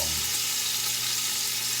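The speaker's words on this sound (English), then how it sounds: "after the bacon is rendered, I'm also going to be periodically draining off excess bacon grease." Thick-cut bacon frying and rendering in a pot, giving a steady, close sizzle of hissing crackle throughout with no speech.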